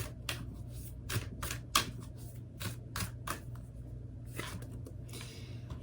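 Sacred Traveler oracle cards being shuffled by hand: a rapid, rhythmic run of crisp riffling flicks, quiet and close, with no talking.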